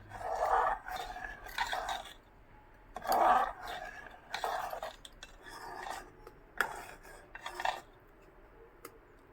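Payesh, a milk and rice pudding, stirred in a pot with a spoon that scrapes and rubs in repeated bursts, fairly quiet and close, with no talking.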